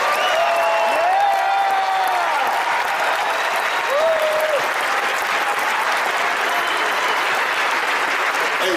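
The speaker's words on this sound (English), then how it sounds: "So if y'all could please just join me in a round of applause to appreciate these guys here." A large audience at the Arnold Classic open class bodybuilding finals applauds loudly and continuously, dense clapping with crowd cheers and whistles rising over it.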